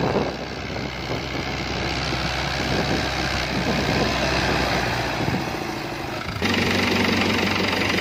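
A 1990 Fiat 640 tractor engine idles steadily in Punjab, Pakistan, a continuous low rumble that shifts slightly louder near the end, with no talking.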